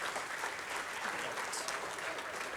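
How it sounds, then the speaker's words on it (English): Audience applause fills a general session of a university alumni leadership conference: a steady, even wash of many hands clapping at once, moderately distant, with no speech over it. "could we just give a round of applause?"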